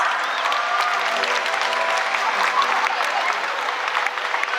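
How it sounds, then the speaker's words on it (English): A crowd in the stands at a SeaWorld San Antonio orca show claps steadily, broad continuous applause that carries on throughout with faint background voices mixed in. "Go ahead and give yourselves a round of applause."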